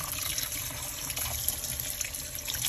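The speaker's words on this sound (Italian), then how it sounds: "E poi vanno sciacquati molto bene sotto l'acqua" Baby octopus (moscardini) rinsed under a running kitchen tap, water streaming steadily and splashing in the sink throughout, a continuous close hiss with no talking.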